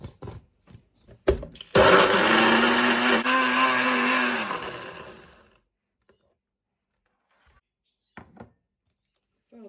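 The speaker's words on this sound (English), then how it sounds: "So I'm adding 1 onion here with 3 cloves of garlic and some fresh thyme. So that's going into my NutriBullet." A NutriBullet blender whirs loudly for about three seconds, pureeing onion, three garlic cloves and fresh thyme, then winds down to silence, with a few thumps before and faint knocks after.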